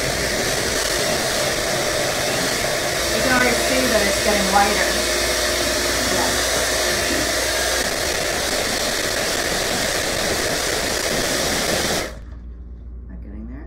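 An electric mixer whirs steadily while mixing thinned cookie icing, a continuous motor drone under a voice speaking, then it cuts off abruptly near the end.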